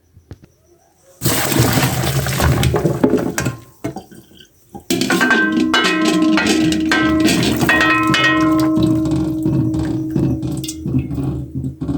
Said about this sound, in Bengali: আমি এখন এটাকে ঢেলে পানি ঝরাই নেব।